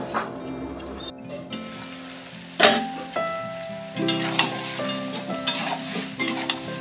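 Taro and shrimp curry being sautéed and stirred in a pan, with a low background sizzle and repeated scraping and clinking of a spoon against the metal, louder bursts of stirring in the second half.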